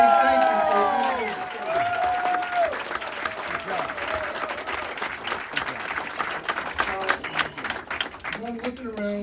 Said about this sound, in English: let's give Mike Sabatino a round of applause and say thank you for everything.